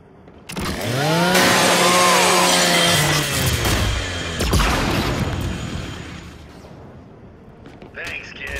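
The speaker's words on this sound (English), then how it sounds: "Just use your Lancer's chainsaw." Lancer rifle chainsaw revving and grinding through a robotic custodial unit in Gears of War 5, a loud, sustained mechanical whine with rising harmonics lasting several seconds before tapering off, with brief sharp impacts.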